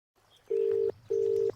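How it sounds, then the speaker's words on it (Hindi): A telephone rings in two steady, evenly pitched electronic tones, each lasting under half a second with a short gap between, clear and close over faint background hiss, with no talking. "फोन आया है।"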